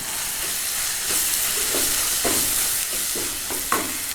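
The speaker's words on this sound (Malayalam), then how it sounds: "ഇനി നമുക്കൊന്ന് ഇളക്കി യോജിപ്പിക്കാം." Chicken Mughlai masala with garam masala, kasuri methi, curry leaves and coriander is stirred in a hot pan. The sizzling is steady and fairly loud, with a run of distinct scraping stirs in the second half.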